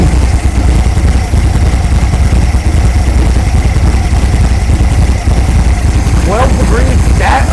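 1964 VW Beetle air-cooled engine idling close by, a loud steady low rumble throughout with a brief higher chirp near the end.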